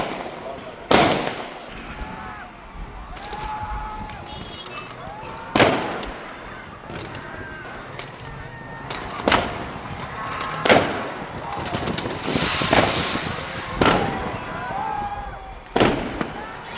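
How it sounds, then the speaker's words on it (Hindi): Firecrackers set off at a celebration of Virat Kohli's first IPL title win, including around Sonar Fort, with a string of sharp, loud bursts and crackles at irregular intervals over steady crowd noise. "सोनार दुर्ग सहित कई जगहों पर पटाखे छोड़कर जश्न मनाया गया"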